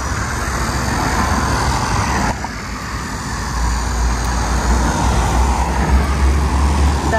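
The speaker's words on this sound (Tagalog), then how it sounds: "Daming mga kotse." Heavy road traffic passes by a station car park in Gapyeong: a loud, continuous roar of engines and tyres with a deep rumble that swells toward the end.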